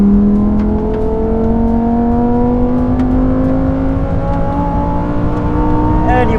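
A Lamborghini Huracan Tecnica accelerating hard down a race track straight, its engine note loud and close, climbing steadily in pitch through the gear with a continuous roaring drone.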